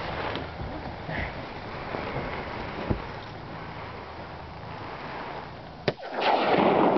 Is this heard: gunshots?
yes